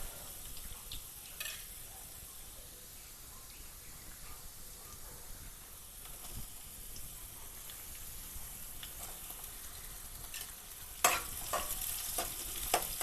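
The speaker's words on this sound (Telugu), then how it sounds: "నెక్స్ట్ మనం బీరకాయ వేసుకోవాలి అయింది గోల్డెన్ కలర్లో ఇప్పుడైతే బీరకాయ పెట్టుకోవాలండి" Sliced ridge gourd goes into a pan of onions fried golden and is stir-fried over a soft, steady sizzle. A louder burst of frying and scraping comes near the end, with faint stirring clatter throughout.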